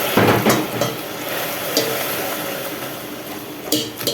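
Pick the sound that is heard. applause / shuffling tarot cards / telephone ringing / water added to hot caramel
water added to hot caramel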